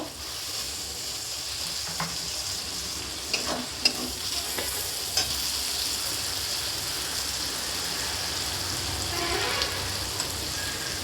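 Chopped tomatoes frying in oil in a pan, a continuous hissing sizzle with occasional stirring clicks and scrapes, steady and close throughout.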